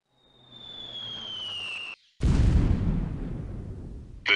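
Artillery strike explosions in the video game Delta Force Land Warrior: a high incoming whistle falls for about two seconds, goes briefly silent, then a loud, sustained roaring blast with rumbling debris follows, and a fresh burst hits at the very end.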